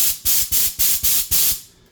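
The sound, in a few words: Kobalt air compressor blowing air on workbench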